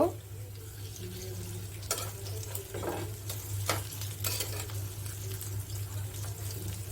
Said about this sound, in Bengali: সবগুলো আমি অল্প আঁচে ভাজবো।